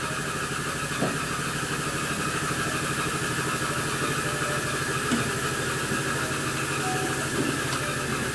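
A 1939 Indian factory hill climber motorcycle engine running on a dyno, a steady rumbling idle with even, rapid firing pulses and faint mechanical clatter, continuous throughout.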